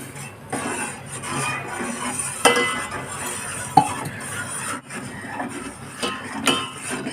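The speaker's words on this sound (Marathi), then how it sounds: "त्याच्यात दुधामध्ये टाकायचं आणि आणि सतत त्याला ढवळत राहायचं" Steady stirring of kheer in milk in a pot over a medium gas flame, with soft scraping and rubbing against the pot and occasional light clinks of the spoon on metal, continuing without a break and with no voices.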